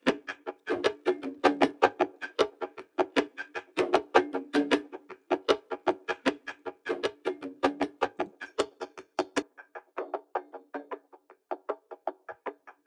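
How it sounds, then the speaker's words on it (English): Unprocessed percussion loop in a drum track, a fast steady run of dry woody knocks and taps with accented hits, moderately loud and close, thinning slightly toward the end. "Now behind it, I added this percussion."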